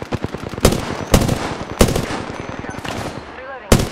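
Gunfire rattles in Apex Legends, loud bursts of rapid automatic shots punctuated by several sharp, heavier cracks, with a voice murmuring in between.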